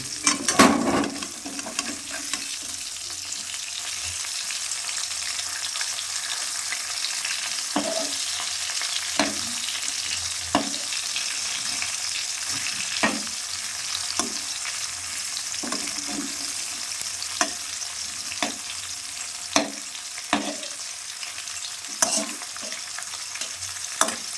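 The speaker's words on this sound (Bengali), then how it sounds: "মাছগুলো ভাজা হয়ে গেছে এবার তুলে নিচ্ছি" Koi fish frying in hot oil in a pan, a steady loud sizzle throughout with repeated sharp clinks and scrapes of a spatula stirring and turning the pieces, no talking.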